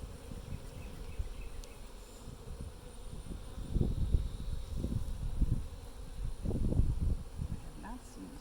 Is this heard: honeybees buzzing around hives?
yes